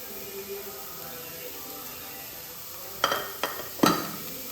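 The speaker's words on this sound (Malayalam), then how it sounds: "അപ്പോൾ ഇത് നല്ലോണം ഒന്ന് വഴറ്റിയെടുക്കാം" Onions being sautéed in a frying pan with salt for a Malabar egg dish, a soft steady sizzle with a few sharp scraping stirs of a spatula near the end.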